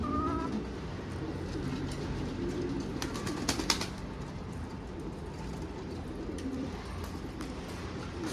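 Pigeons coo softly inside a coop over a constant low background rumble, with a few brief higher chirps and flutters partway through.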